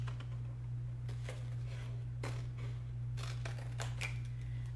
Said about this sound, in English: getting out my trusty little Couture scissors, I'm cutting out the Trick or Treat